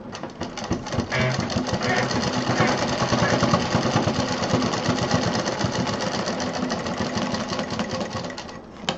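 A sewing machine runs steadily and loudly while stitching a homemade college bag, its rapid needle clatter continuous for the whole stretch with only slight variations in pace.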